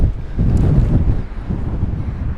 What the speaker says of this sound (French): Le vent est de droite à gauche, légèrement contre.